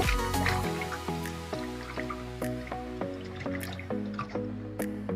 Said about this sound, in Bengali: এরকম করে আমি ধুয়ে নিব সুন্দর মতো